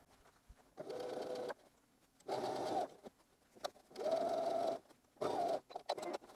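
Sewing machine running a straight stitch along a quilt block, several steady whirring runs of a second or so each separated by short pauses, close and fairly quiet.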